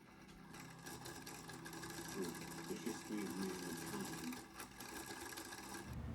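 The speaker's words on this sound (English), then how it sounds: "Now I'm just going to finish quilting these last squares." A sewing machine quilting fabric squares, a faint steady whirring stitch run lasting several seconds before stopping, with soft background sound.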